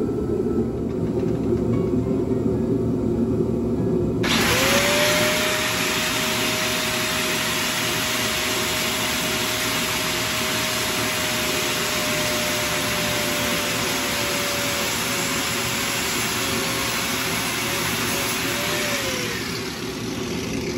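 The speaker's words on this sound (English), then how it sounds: "Get my cutoff wheel." A cutoff wheel bites through a fuel line on a small block Mopar build, a sustained high-pitched whine that starts abruptly, holds steady for about fifteen seconds and then winds down, sitting over a constant motor drone.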